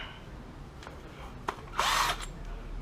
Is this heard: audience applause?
no